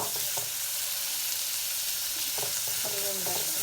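Onion and okra frying in a pan, a steady close sizzle filling the whole stretch with a few brief clinks of stirring near the end.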